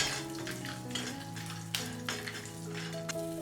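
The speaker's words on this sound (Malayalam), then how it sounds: "കപ്പലിൻ്റെ ചേർത്ത് നല്ലപോലെ വഴറ്റി കൊടുക്കാം." Roasted peanuts sautéed in a pan with green chilli and garlic for chutney, a soft sizzle with scattered scraping stir strokes and faint tonal clinks, close and moderately quiet, no talking.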